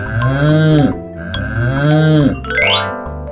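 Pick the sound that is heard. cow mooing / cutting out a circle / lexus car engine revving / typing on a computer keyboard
cow mooing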